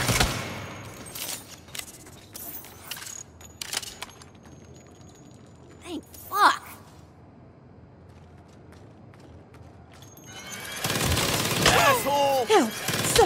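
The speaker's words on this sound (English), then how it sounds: "Is that a fucking minigun?" Rapid bursts of gunfire from a minigun and other weapons in the Saints Row video game, dense clattering volleys that come and go over about thirteen seconds, with a loud closing barrage and shouted voices mixed in.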